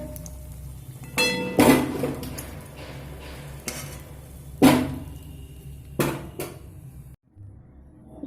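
Fried amudi fish pakoras lifted from the pan into a bowl: several sharp clanks and knocks of utensil on metal, close, separated by quieter pauses.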